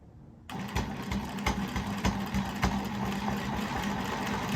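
A sewing machine stitches through a scrap quilt, starting after a brief quiet moment and then running steadily with a close, even, rapid mechanical hum and needle chatter.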